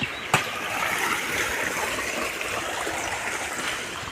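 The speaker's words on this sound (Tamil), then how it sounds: "நம்ம வீட்டுக்கு எடுத்து விட்ட தண்ணி அப்படியே வந்து இப்போ தென்னை வயலுக்கு பாயுது" Water rushes and trickles steadily along an open channel into a coconut field, a constant close hiss with one brief knock near the start.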